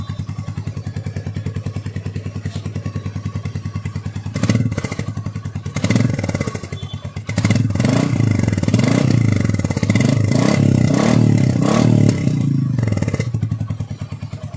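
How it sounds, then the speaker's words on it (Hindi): A Royal Enfield Meteor 350 motorcycle revs loudly through its exhaust, with a steady throaty rumble broken by several sharp throttle blips and surges. "साउंड जो आपने सुनी इसके एग्जॉस्ट की"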